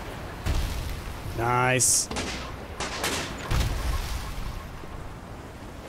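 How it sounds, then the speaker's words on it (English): A small swivel cannon firing in the sailing video game Sail Forth, several booming shots over a couple of seconds, with a brief spoken word and game sounds around them. "A small swivel cannon again."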